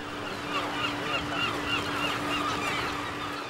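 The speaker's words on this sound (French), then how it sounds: "Cormorans, pétrels et autres oiseaux aquatiques se disputent les meilleurs emplacements pour se poser." Cormorants, petrels and other seabirds call at a crowded colony, a dense continuous chorus of harsh overlapping honks and cries at moderate distance with no pauses.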